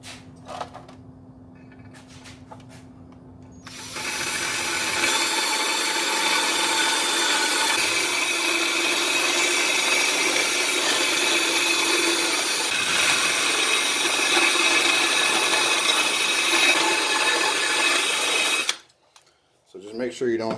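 A rotary tool grinds material out of the port of a 5hp Briggs & Stratton engine, starting after a few seconds of quiet handling and whining loudly and steadily for about fifteen seconds before cutting off abruptly.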